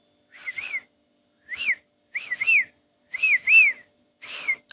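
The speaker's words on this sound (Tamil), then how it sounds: "யாரோ விசில் அடிக்கிற மாதிரி கேட்குது" A person whistles a short rising-falling tune in several bursts, clear and close, with brief pauses between phrases.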